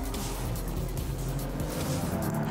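A BMW M4 with a 3-litre twin-turbo engine and 7-speed dual-clutch transmission driving on a race track, a loud continuous engine drone heard up close.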